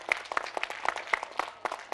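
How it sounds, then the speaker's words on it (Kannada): A small audience claps at a school drama event, brief scattered handclaps heard fairly faint and distant, with no talking over them. "ಅವ್ರಿಗೂ ಕೂಡ ಒಂದು ಜೋರಾದ ಚಪ್ಪಾಳೆ ಇರಲಿ"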